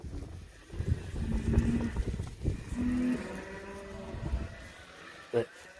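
Cattle lowing on a grazing pasture of clover and mixed grasses, a few drawn-out moos close by among rustling and movement, with a short sharp sound near the end.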